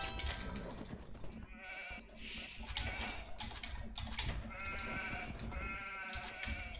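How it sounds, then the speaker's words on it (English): Sheep bleat amid dense in-game sounds during an Age of Empires 4v4 match on the Arabia map, the cries mixed loudly with constant clicking, music and unit noise throughout. "There, one sheep running there that he's trying to steal."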